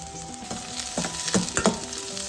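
Onion and curry leaves sizzle in hot oil with green chillies already frying, a steady crackle broken by several sharp stirring scrapes and pops close by.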